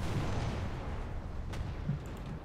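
Artillery shells landing around a Ferdinand tank destroyer in War Thunder, a muffled low rumble of distant blasts with one sharper crack midway, faint and continuous.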